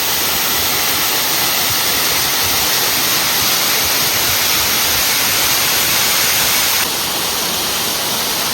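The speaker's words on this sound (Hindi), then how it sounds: "ये है मेरे पीछे वाटरफॉल और ऊपर से देख सकते हो वहाँ से आ रहा है ये" Lovers Leap waterfall near Nuwara Eliya in Sri Lanka's hill country roars nearby as a steady, dense rush of falling water, unbroken throughout with no voices.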